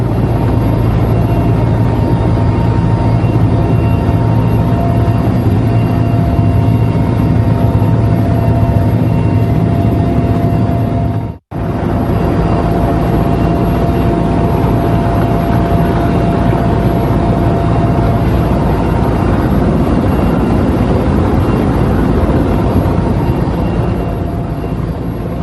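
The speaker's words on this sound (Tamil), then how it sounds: "மழை வெள்ளத்தில் சிக்கக்கூடிய மக்களை மீட்பு படையினர் ஹெலிகாப்டர் மூலமாக மீட்டு வருகின்றனர்." Rescue helicopter flying during flood rescues near a stranded train in Tamil Nadu, a loud, continuous engine and rotor drone that holds steady throughout with one brief dropout midway.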